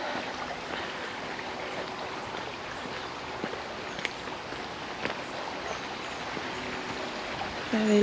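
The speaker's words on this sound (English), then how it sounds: "Lovely running water." A small stream flows on a countryside nature walk in Leicestershire, a soft, steady, close babble with faint splashes and ticks throughout and no talking.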